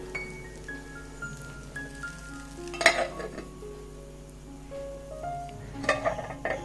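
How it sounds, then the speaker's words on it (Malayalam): Palappam batter cooks in a covered iron pan over a medium flame, giving a faint, quiet sizzle broken by two sharp clinks of metal against the pan, with no talking. "ഒരു മീഡിയം ഫ്ലെയിമിലിട്ടിട്ട് അപ്പം വേവിച്ചെടുക്കാം"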